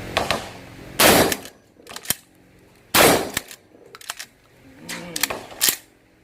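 Loud, sharp blasts from an NTS Commando pump-action shotgun with an 8.6-inch barrel, two big reports about two seconds apart, each followed by the clack of the pump action cycling, then more mechanical handling clicks.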